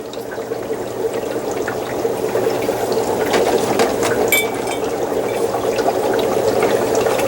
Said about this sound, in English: we'll pour it through the brine shrimp net, and then the water at the bottom that collects will return to the jar